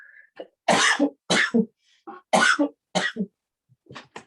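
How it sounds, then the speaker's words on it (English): A run of several sharp, harsh coughs in quick bursts, close and fairly loud, separated by brief silences. "Excuse me, I've just got a cough."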